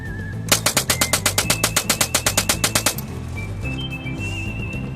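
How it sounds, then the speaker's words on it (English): A homemade .22 caliber minigun fires a rapid burst of about twenty sharp, evenly spaced shots over two and a half seconds, loud and close, then stops, leaving a faint steady background with light whistling tones. "it's a DIY gun that is able to fill someone's ass with .22 caliber ammo"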